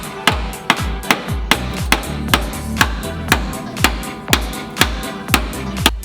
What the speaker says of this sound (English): What a fun time when you get to beat up your car with a hammer.